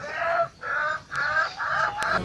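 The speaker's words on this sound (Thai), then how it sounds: "พ่อพันธุ์แม่พันธุ์ไก่นะครับ" Breeding chickens, a rooster and hens, cluck and call in four or five short, close bursts separated by brief pauses. The calls are clear and fairly loud, with no one speaking.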